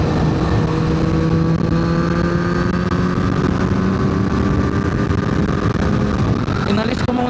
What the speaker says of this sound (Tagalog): Nagpalit ako ng Yoshimura na long exhaust.